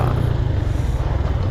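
Honda Dash 125cc motorcycle engine roaring steadily at speed during a top speed run, loud and close with continuous rough low drone and some wind noise.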